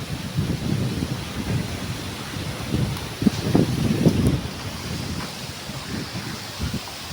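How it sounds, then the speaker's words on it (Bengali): Strong storm wind roars and gusts outdoors while kicking up dust, a steady loud rushing with low rumbling buffets against the microphone, no voices. "এখানে ঝড় হচ্ছে আমাদের"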